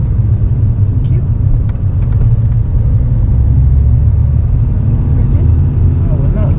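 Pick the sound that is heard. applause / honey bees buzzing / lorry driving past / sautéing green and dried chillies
lorry driving past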